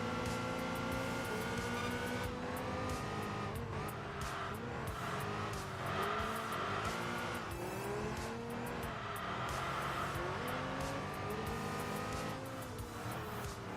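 Racing car in the Enthusia Professional Racing video game, a roughly 140–150 horsepower car, with a loud continuous engine drone that rises and falls through the gears, plus squealing tires, steady throughout with no talk.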